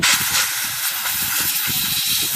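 Compressed air blasts through the type segment of a Hermes typewriter, a loud steady hiss close up with low rumbling flutter underneath, sustained without pause.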